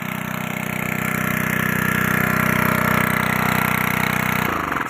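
A water pump engine in a guava orchard runs steadily at idle, a loud, close, even drone that changes abruptly near the end as it is being shut off.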